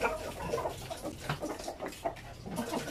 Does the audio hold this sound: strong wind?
no